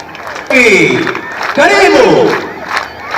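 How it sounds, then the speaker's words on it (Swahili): At a military cadets' passing-out parade at Lanet KMA, a crowd of women ululates loudly in shrill, warbling trills to welcome the president. Two strong bursts of ululation come close together, with crowd noise beneath. "wapi vigelegele vya rais?"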